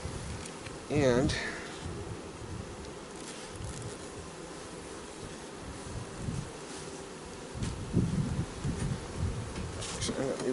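Honeybees buzzing around an open hive during an inspection, a dense steady hum close by with a louder buzz passing near the start, under a man's occasional speech and rustling.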